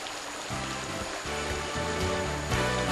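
A forest stream flows steadily in a mountain recreation area, a constant bright rushing wash with soft low gurgles underneath, no voices.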